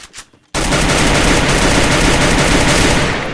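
SCAR rifle fire in the battle royale game Free Fire: after a brief quiet moment, a loud, sustained automatic burst rattles on continuously for about three seconds before tapering slightly at the end.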